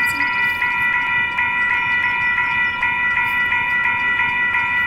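Union Pacific train rolling past a large railroad crossing, a steady loud drone with sustained tonal whine and a faint regular clatter, no voices over it.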